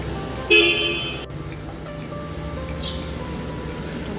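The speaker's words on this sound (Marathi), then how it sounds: "हे कर हॉर्न द्या पण" A single short car horn toot rings out near the start, followed by a low idling rumble with faint bird chirps in the background.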